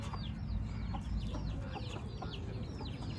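Chickens cluck and chirp repeatedly against a steady low rumble of background noise, the calls moderately close and overlapping.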